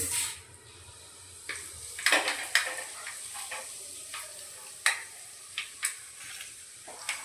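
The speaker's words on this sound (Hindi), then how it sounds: "सबसे पहले इसमें डाल दूँगी मैं धनिया, साबुत धनिया और मेथी" Whole coriander seeds and fenugreek fry in hot oil for kadhi, a soft continuous sizzle broken by sharp spatters and light stirring clinks near the pan.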